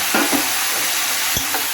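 Vegetables and lentils sizzling and frying in a pan, a steady crackling hiss with a few louder scrapes of stirring.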